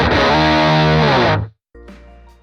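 A heavily fuzzed electric guitar chord rings out loud and thick, cuts off, then a second distorted strum follows more softly.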